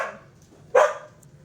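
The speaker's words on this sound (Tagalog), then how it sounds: "Maingay yung aso." A single sharp dog bark, fairly close, after a soft murmur and short silence.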